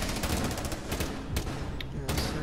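Rapid bursts of gunfire in a Rainbow Six Siege-style tactical shooter match with Zofia and Ela, loud close cracks in quick succession with a dense fusillade texture, no talking.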